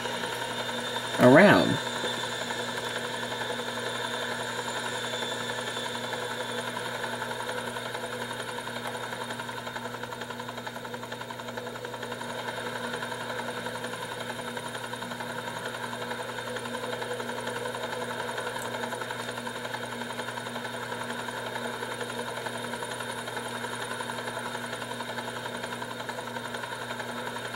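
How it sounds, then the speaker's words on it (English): Helicopter in Grand Theft Auto IV, a steady droning rotor and engine hum that runs the whole time at an even level, with a short loud knock near the start and someone talking over it. "I'm gonna park this helicopter."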